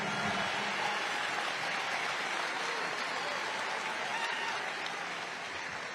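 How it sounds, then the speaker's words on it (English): An audience at a political rally applauds loudly, a dense, sustained clatter of clapping that fades slightly toward the end. "Let's give you a round of applause."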